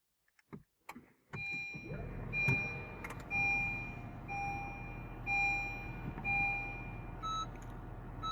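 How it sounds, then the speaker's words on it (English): A Honda Fit GP5 starts with a few clicks and the engine catching into a steady idle, while the smart key warning beep repeats at regular intervals, with bright tones standing out over the running engine. "Hope you hear the beep sound."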